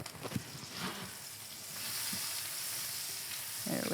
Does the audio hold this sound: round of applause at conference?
no